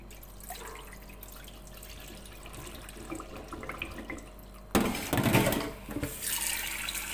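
Lentils being washed under running water from a tap at a sink, a steady low trickle and dripping that turns to a louder rushing, splashing stream near the end.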